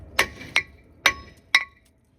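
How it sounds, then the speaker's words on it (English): Four sharp metallic hammer strikes ring out on rusty front brake parts of a 2013 Mercedes Sprinter 2500, spaced unevenly about half a second apart, each with a brief bright clang and quick decay in a quiet workshop. "there's a lot of rust here, so you want to give a good hammer under this area"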